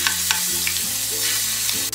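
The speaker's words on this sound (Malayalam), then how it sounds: "ഇനി ഇതിലേക്ക് ഈ മിക്സ് ചെയ്ത് വെച്ചിരിക്കുന്ന ചിക്കൻ പീസസ് ഇട്ട് കൊടുക്കാം" Marinated chicken pieces sizzle steadily in hot oil in a pan, with a constant loud frying hiss and a few sharp clicks from stirring or pieces dropping in.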